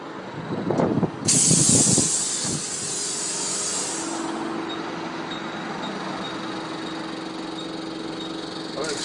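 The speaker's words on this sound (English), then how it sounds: "So, this is how we put air in tyres." Air hisses into a car tyre from a pump in a loud sharp spray burst, then settles into a steady hiss with a low motor hum. Voices talk briefly at the start.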